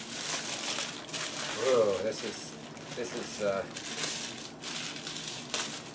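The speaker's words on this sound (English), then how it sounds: "Now we'll take the paper off the actual hammer." Paper wrapping is crinkled and torn away from a movie-prop hammer indoors, giving several close bursts of crumpling and rustling, with a voice exclaiming partway through.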